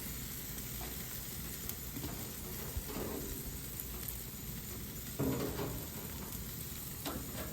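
Honey garlic pork chops sear in a hot pan with a steady, quiet sizzle, broken by a few louder crackling bursts around the middle and near the end.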